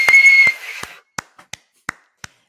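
A single steady whistled note holds for about half a second, followed by several sharp, separate taps spaced unevenly.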